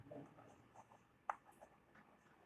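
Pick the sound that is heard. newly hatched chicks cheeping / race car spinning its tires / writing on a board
writing on a board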